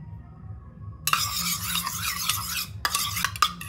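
Dhaba-style chilli chicken with soy sauce stirred in a pan: after a quiet low hum, a burst of close sizzling scrapes begins, followed by several sharp spoon strokes against the pan.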